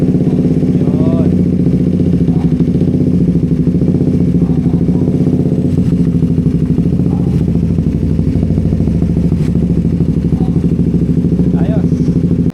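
A Suzuki GSX 150 motorcycle engine started after throttle body cleaning, running loud and close with a steady rapid idle chug throughout, while someone speaks briefly over it.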